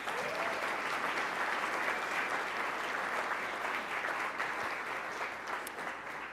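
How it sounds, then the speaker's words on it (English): An audience at the Ellis in Columbus gives a round of applause for a panel and its host, a dense, steady wash of many hands clapping that holds level throughout and tapers slightly at the end. "Please give them a round of applause."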